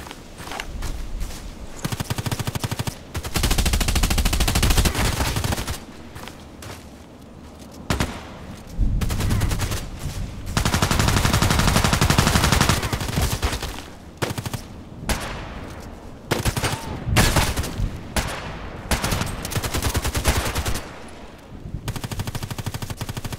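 Heavy gunfire in the online shooter Contract Wars, with long loud bursts of automatic rifle fire and scattered single shots that stop and start in dense clusters and continue for a long stretch.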